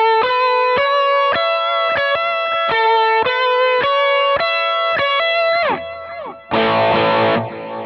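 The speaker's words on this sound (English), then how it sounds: "Let's add some transistor delay." Distorted electric guitar through transistor delay plays a steady run of sharp, repeated picked notes, loud and up close, ending with a bent note and a brief strummed burst.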